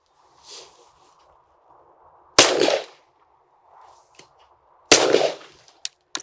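A 28 gauge shotgun fires at clay targets outdoors: two sharp, loud reports a few seconds apart, each with a short echoing tail, plus a couple of quick clicks and faint distant sounds between.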